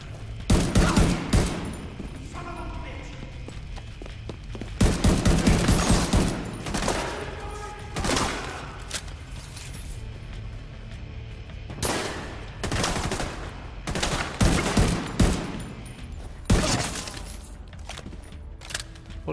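Gunfire in the video game The Division 2, with dense bursts of automatic shots and rapid single cracks in clusters across the stretch, loud and close, separated by brief lulls.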